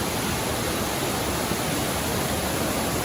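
Dukes Creek Falls, a mountain waterfall near Helen, Georgia, pours in a steady, dense roar of rushing water that holds even and unbroken throughout, with no voices over it.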